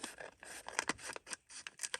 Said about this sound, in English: I'm going to try cutting at this direction.